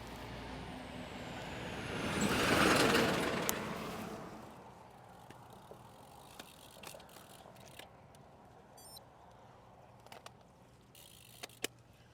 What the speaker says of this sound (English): it's a big truck coming. I know he's going to be loud